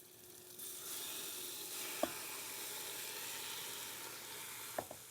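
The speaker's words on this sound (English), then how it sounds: "if you want to test to make sure the oil's hot enough, you can put in just 1 piece, and you want to hear a little sizzle." A steady, faint sizzle of chicken frying in hot oil runs throughout, with a couple of brief sharp pops or clinks.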